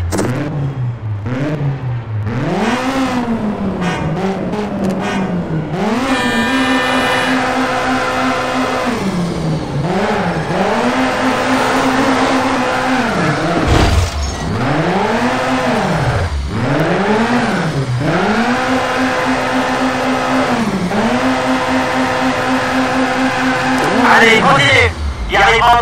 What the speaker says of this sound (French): tu vas rouler en décrivant un cercle. N'accélère pas à fond, mais essaie d'aller assez vite.